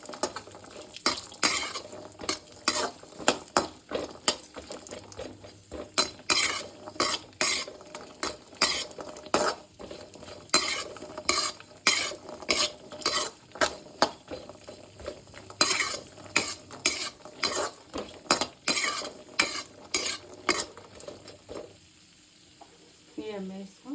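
Moong dal fries in ghee over a low gas flame, a soft sizzle beneath rhythmic scraping and clinking of a spoon against the pan, repeated in irregular bursts for a long stretch, with a brief cough near the end.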